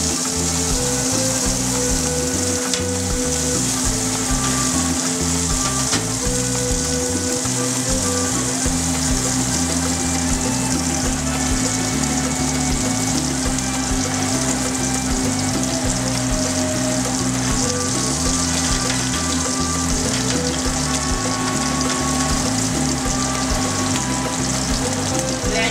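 Sierra fish cooking in tomato sauce over lowered heat, a dense, continuous sizzle and bubbling with a steady hum beneath, loud and unbroken.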